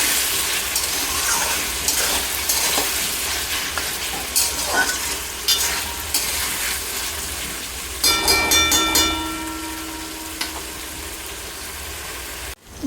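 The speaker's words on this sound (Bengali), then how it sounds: "মশলার মধ্যে পেঁয়াজ কলি কাটা দিয়ে দিচ্ছি আর দিয়ে কিছুক্ষণ ভাজবো" Chopped onion stalks fry in spice paste in a pan for a winter fish curry, giving a continuous sizzle with scattered stirring scrapes and a sharper burst of crackling partway through, with no talking.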